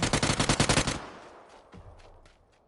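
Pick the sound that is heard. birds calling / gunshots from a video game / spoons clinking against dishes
gunshots from a video game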